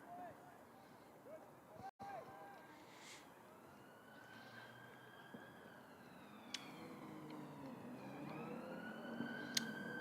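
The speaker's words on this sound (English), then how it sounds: "There's a rather loud siren going down the Stores Road." A siren wails steadily in the distance, rising and falling as it passes along Stores Road beside a Derbyshire vs Middlesex cricket match, with a few sharp clicks and faint background hum.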